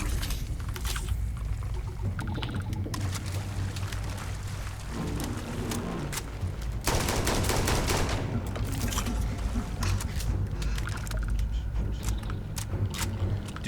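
Dense, continuous gunfire from the video game Starfield, with rapid overlapping shots and loud, steady intensity throughout and a brief heavier surge midway.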